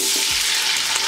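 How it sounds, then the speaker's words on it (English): Onions hitting hot palm oil in a pot, a loud, dense, continuous sizzle with faint stirring scrapes, up close and steady. "I'm going to add my onions"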